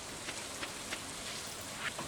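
Steady rain falls in the video game Stardew Valley, a soft, even hiss with a few faint drop-like ticks scattered across it.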